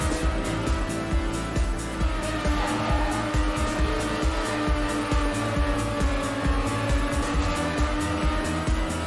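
A race car in Trackmania Nations Forever, the engine droning loud and constant with shifting revs and tire noise throughout, no pauses.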